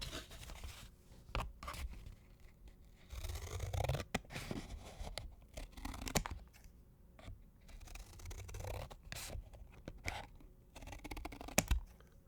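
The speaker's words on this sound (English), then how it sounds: "Let's just use some scissors" Scissors cut open fidget toy packaging up close in a quiet room, a series of short crisp snips and scrapes coming in bursts separated by brief pauses.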